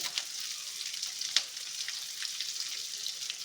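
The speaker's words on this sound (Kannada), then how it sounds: "ಫ್ರೈ ಮಾಡ್ಕೊಳ್ಳೋಣ ಚೆನ್ನಾಗಿ" Garlic, ginger and dried guntur chillies fry in hot oil in a pan, giving a steady, close sizzle that runs throughout with one brief sharper crackle, and no talking.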